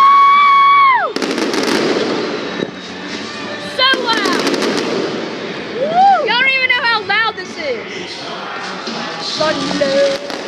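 Fireworks burst outdoors in a loud, dense sequence of cracks and booms, with whistling rising streamers and crackling mixed in, while a woman cheers and people talk and whoop throughout.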